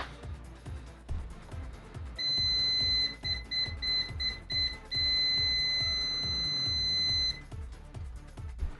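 An ANENG 9002 multimeter on continuity mode emits a high, loud steady beep in several bursts, layered over a repeating low rhythmic thumping background.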